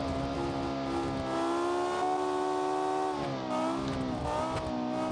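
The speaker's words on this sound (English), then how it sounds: "It is a turbocharged V10" A turbocharged V10 race car engine in BeamNG.drive roars steadily at high revs, its tone dipping and climbing as it shifts, loud and continuous with no talking.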